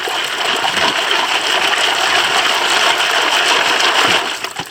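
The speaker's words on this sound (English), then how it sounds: "You want to see some good panning?" Gravel and sediment from a crevice being washed in a gold pan under water, a steady loud sloshing and splashing with continuous rushing water that carries on without pause, no voices.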